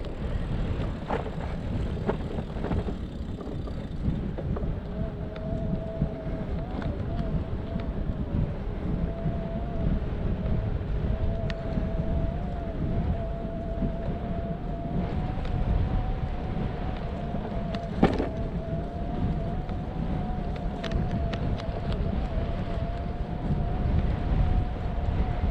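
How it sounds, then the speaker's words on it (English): Steady wind buffeting a microphone during an e-bike ride around Otter's Edge on Benbecula, a constant low rumble with a faint whining tone running through it and no talk. "It's a bit cold, that wind"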